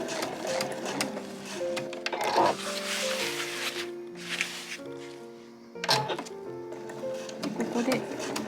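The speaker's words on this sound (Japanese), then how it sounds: "ここで一回まっすぐに縫います。" A sewing machine stitches fabric for a tote bag in short, rhythmic bursts with brief pauses between runs, close and clear.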